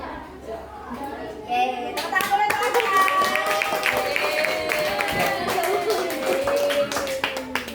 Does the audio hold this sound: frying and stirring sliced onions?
no